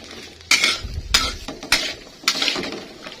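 Green beans being stirred in a metal pan with a spatula, four distinct clanks and scrapes against the pan spaced irregularly, close and fairly loud, with no talking.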